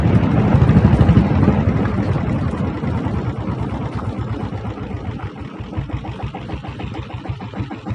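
A self-start Royal Enfield Bullet with a diesel engine thumps steadily nearby, a loud rhythmic chugging that eases to quieter, distinct pulses, with no talk.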